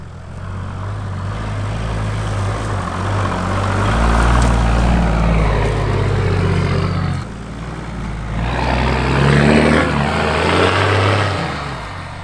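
A 4WD vehicle, a 79, drives up a steep dirt hill on a backyard track in two-wheel drive, its engine droning loudly and rising in pitch, easing briefly, then revving again as it climbs.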